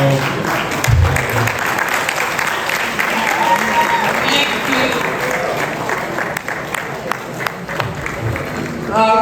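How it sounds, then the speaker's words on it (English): A large indoor audience at a podium event breaks into loud, sustained applause and clapping with some cheering, and the dense wash of claps continues throughout while voices are heard beneath it. "If you are clapping, please clap."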